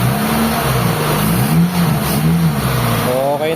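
A Mitsubishi Lancer GLi engine with multiple failed sensors revs up loudly close by, its pitch climbing and dipping as the throttle is worked, with a voice briefly audible over it.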